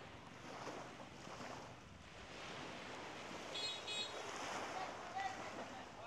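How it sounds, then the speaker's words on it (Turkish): Calm sea waves wash gently onto a shore in Bali, a low continuous surge with light wind buffeting the microphone and slight swells in loudness. "Bakın deniz genelde en fazla bu kadar dalga oluyor."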